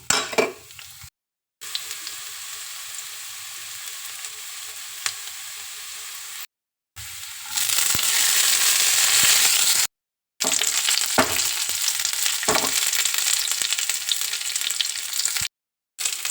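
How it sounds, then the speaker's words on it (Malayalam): Onions sizzle in hot coconut oil in a pan, tempering for a homestyle beef curry, a loud continuous frying hiss broken by brief gaps, with occasional utensil clinks and stirring. "ഇതിലേക്ക് വെളിച്ചെണ്ണ ചൂടായി നമുക്ക് ഉള്ളി എടുത്ത് തൂമിക്കാം"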